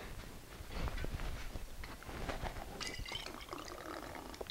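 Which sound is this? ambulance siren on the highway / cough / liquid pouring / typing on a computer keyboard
liquid pouring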